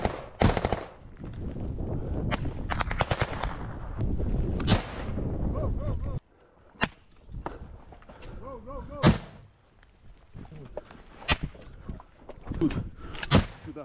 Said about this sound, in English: Now see them laying down some heat, popping off some more grenades.